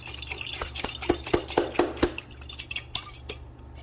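Water is poured over a ravioli bake of frozen ravioli, ground beef and marinara sauce in a baking dish, giving a close run of irregular splashes, drips and patters that fade out near the end.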